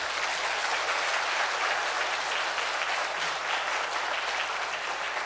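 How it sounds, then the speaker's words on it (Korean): Congregation applauding in a church during an afternoon worship service, a dense, steady wash of many hands clapping at close range throughout, with no talk over it. "하나님께 영광의 박수로 한번 올려드리면서 한번 격려하도록 하겠습니다"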